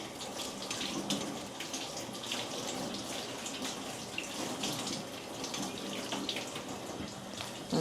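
Cauliflower and broccoli are rinsed clean in warm water from a running tap, a continuous splashing gush with small bursts of spatter, close and steady throughout.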